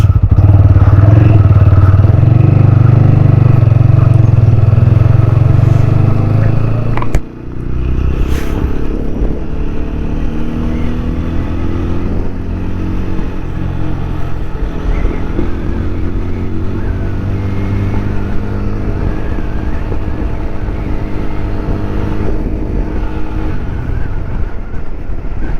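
A motorcycle ridden on a hill road near Trichy, its loud, steady engine hum close by, with a brief dip around seven seconds where a gear is shifted before the engine note builds again.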